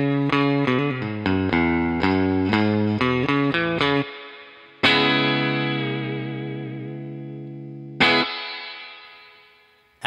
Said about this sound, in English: Now let's hear it with some of the amps' spring reverb.